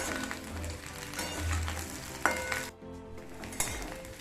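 Drumsticks frying in a pan for Bengali dudh shukto, a steady sizzle with low hum, a couple of sharp metal clinks from stirring and a brief drop in sound near the end, close with no talk.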